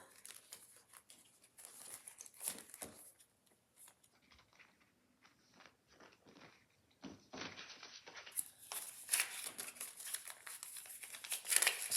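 Paper cash is handled and slipped into savings envelopes close up, with soft crinkling, rustling and sliding of bills and paper in irregular bursts that grow louder toward the end.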